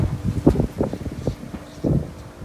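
Gusty wind buffets the microphone in low, rumbling bursts, with a soft rustle underneath.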